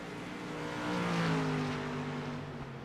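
Street stock race car engines on Lakeland's track in the iRacing sim drone at a fairly faint level, the pitch rising and then easing as the cars pass.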